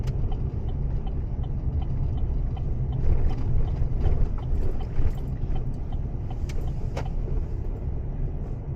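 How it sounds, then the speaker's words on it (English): Evening road traffic near a truck stop and convenience store, heard as a steady low rumble of passing vehicles with a few faint higher clicks and swells, fairly quiet and without talk. "A lot of traffic in here tonight."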